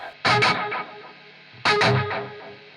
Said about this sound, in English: then we'll have some echo on this guitar signal now.